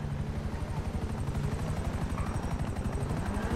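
A helicopter's rotor beats thud in a fast, steady rhythm, loud and close, with a constant engine whine above the chopping, from an enemy helicopter in Grand Theft Auto V.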